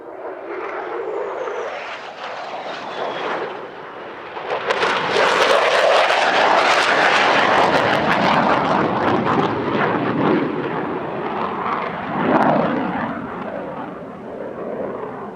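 USAF Thunderbirds F-16 jets fly the closing act of their display at the California International Airshow 2023. A broad jet roar builds from a distant rumble into a loud, sustained pass, then swells again briefly before easing off.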